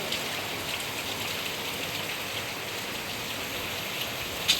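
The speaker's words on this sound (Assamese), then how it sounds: "এয়া দেখিছেনে, বৰষুণ পৰি আছে" Rain falls steadily outside a window as a continuous, even hiss of drops with no breaks and no voices.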